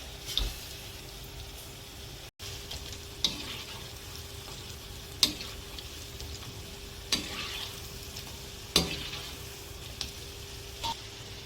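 Small pieces of dough dropped into hot oil for Chettinad masala seeyam, a quiet, even frying hiss with occasional soft ticks and clinks spaced a second or two apart.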